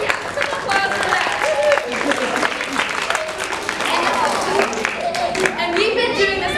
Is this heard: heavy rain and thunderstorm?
no